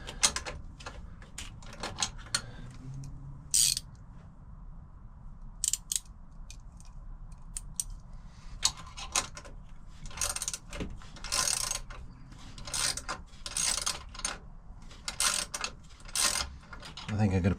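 Ratchet with an 18mm socket working a car's belt tensioner to slacken the belt, heard as intermittent bursts of close clicking and metallic rattles with pauses between strokes over a low background hum.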